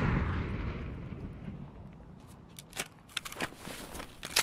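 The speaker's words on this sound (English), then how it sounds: "Grenade." A grenade blast in the Streets of Tarkov level of Escape from Tarkov opens as a heavy, rumbling boom that slowly fades, followed by scattered sharp cracks and pops.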